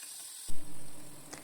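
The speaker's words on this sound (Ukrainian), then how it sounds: "Перед цим я обсмажу трохи цибулю до прозорості." Onions drop into hot oil and are cooked until translucent for a chicken curry. A sudden loud burst of sizzle gives way to a steady, even frying hiss, with a faint clink near the end.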